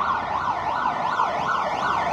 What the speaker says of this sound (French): Ils ont donné un sirène.